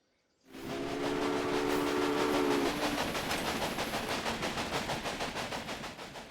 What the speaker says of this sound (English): Now you can see the journey your train will take.